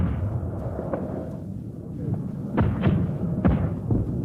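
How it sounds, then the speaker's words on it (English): Mortar rounds bursting during a night attack in Vietnam, a series of dull thuds and sharp blasts at mid distance, several in quick succession toward the end over a low rumbling background. "The night and reality explodes all around you."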